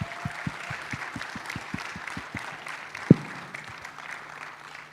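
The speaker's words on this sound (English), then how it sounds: "Can I get a round of applause for them," Audience applause at a blockchain hackathon prize announcement, a steady wash of clapping from a crowd with a few sharp, louder claps standing out near the middle.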